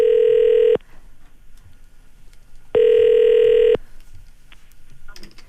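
Telephone tones on a radio call-in line: two steady, loud electronic ringback beeps about a second long, separated by a quiet gap with faint background noise.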